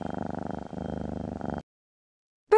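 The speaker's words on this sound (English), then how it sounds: "Cat." A cat purrs close up in a steady rhythmic series of soft rumbling pulses for about a second and a half, then stops into silence, with no voices.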